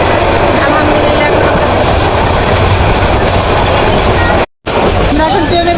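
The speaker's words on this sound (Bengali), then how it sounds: "আমাদের ট্রেন ছেড়ে দিচ্ছে আলহামদুলিল্লাহ" A passenger train pulls away from a station in Bangladesh, heard from on board as a loud, continuous rumble with rhythmic wheel clatter, brief metallic squeals and a faint background voice, cut by a short drop near the end.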